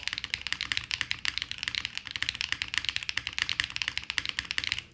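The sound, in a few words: typing on a QK75N mechanical keyboard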